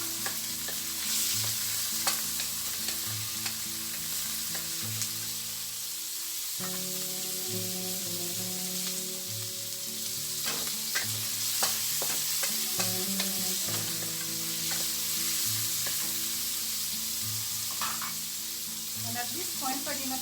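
Pork and tomato sautéing for a jackfruit and coconut milk stew, a continuous close sizzle with repeated stirring scrapes and clatters of a spoon in the pan.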